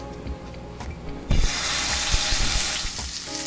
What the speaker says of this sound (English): once we get our pan good and hot, we're going to take a turkey leg and plunk it right in there